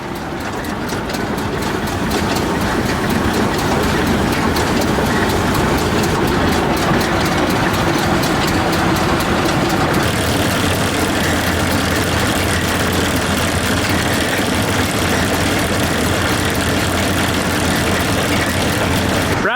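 A tractor's PTO drives a baler during field work, giving a loud, steady mechanical drone with heavy low engine rumble and a constant rattle of moving parts. It runs unbroken and close for the whole stretch, with no talk.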